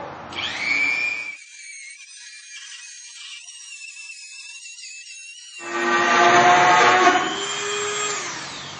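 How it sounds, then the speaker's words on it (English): A Dremel rotary tool cuts a hole in the plastic body of a Club Car DS golf cart, giving a loud high-pitched whine that drops to a lower steady drone mid-clip, then surges back to a harsher grinding pitch. "we'll take our Dremel and cut out the hole"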